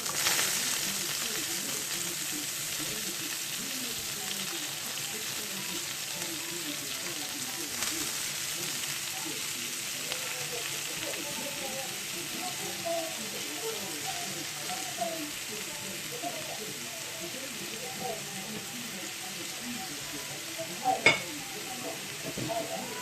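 Leeks frying in butter in a pan, giving a soft continuous sizzle with occasional stirring scrapes, fairly quiet and close, with faint voices in the background.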